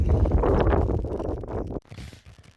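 Wind buffets the microphone outdoors in a farm field during rapeseed and silage work, a loud, rumbling, gusty roar that cuts off sharply near the end, leaving quieter background noise.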